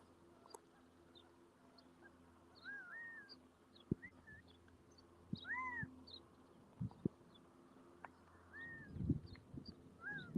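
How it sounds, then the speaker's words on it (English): Quail calling around the town of Wilhoit, Arizona: several short whistled calls, some rising and falling, repeat at a moderate distance over low outdoor rumble and a few nearby thumps, with no one talking. "That's the quail."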